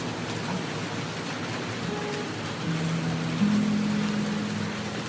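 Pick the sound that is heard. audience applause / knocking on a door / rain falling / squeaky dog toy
rain falling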